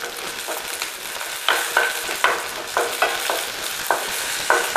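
Spices and garlic sautéing in a pan for poondu kuzhambu, a constant soft sizzle broken by repeated scraping stirs of a spoon against the pan at an uneven rhythm.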